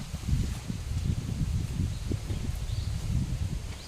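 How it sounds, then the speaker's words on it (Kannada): Wind gusts rustle through leaves in a continuous, rushing wash, with a faint bird chirp now and then. "ಗಾಳಿ ನೋಡಿ ಯಾವ ಥರ ಬೀಸ್ತಾ ಇದೆ ಇವತ್ತು"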